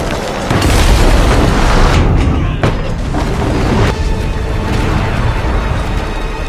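A massive explosion caused by a fire roars with a deep, sustained rumble, and blasts and crackling debris keep booming loudly throughout.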